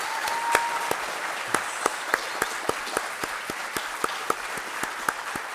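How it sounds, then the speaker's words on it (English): Audience applause at a leadership conference for men of color, a steady wash of clapping with a few sharper, louder claps standing out at irregular intervals throughout. "Let's give these gentlemen a round of applause"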